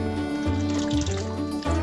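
Hot water for a home bourbon mash is poured steadily from one vessel into another, a continuous close liquid fill with gurgles and splashes throughout.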